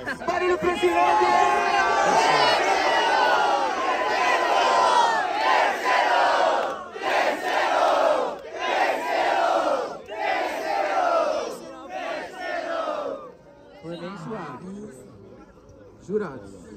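A loud crowd at a rap battle grand final roars, cheers and shouts continuously in a dense wash of voices, with brief dips and surges before thinning near the end.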